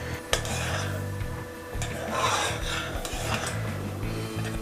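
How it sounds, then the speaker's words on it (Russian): Buckwheat honey syrup for homemade cough drops is stirred in a small saucepan, a steady scraping, rasping rub of a utensil against the pot bottom, close and continuous with no talking. "И не забывайте все время еще помешивать, потому что если не помешивать, то оно начнет просто прилипать, прикипать к кастрюльке."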